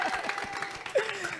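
Audience applause at a school challenge event at Cours Privé Cheikhoul Khadim: scattered, fairly faint clapping that runs beneath a voice speaking over it.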